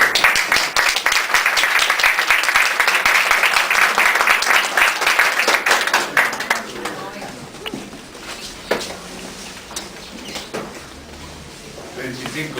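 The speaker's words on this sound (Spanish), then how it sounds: "lo recibimos a Padre Ismael con fuertes palmas" A crowd breaks into loud, sustained applause for Padre Ismael in the Santa Rita de Casia parish, dense clapping for about six seconds before it thins into scattered claps and quiet room noise.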